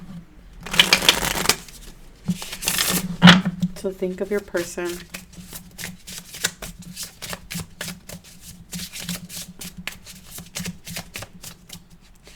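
A deck of tarot cards is shuffled close up in quick riffling bursts with a steady rapid patter, while a person talks over part of it.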